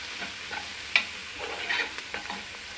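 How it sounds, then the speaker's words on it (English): Braised lamb being stirred in a pot, heard as a soft continuous simmering hiss broken by a few scraping spoon strokes, with one sharper clink near the start; no one talks. "Give it a good stir so it picks up all the flavoring from the lamb that was just cooking"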